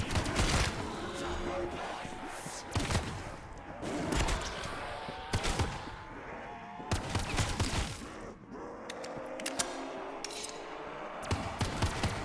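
Pistol shots fired rapidly in a VRChat zombies game, a string of sharp, irregular cracks spread through the stretch over a busy background of game noise.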